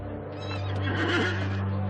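A horse whinnies with a loud, wavering neigh that rises and falls over a couple of seconds, close by and clear, with a steady low hum beneath it and no talking.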